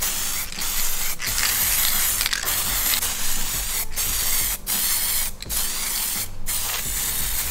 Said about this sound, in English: that is an awful spattery last bit of can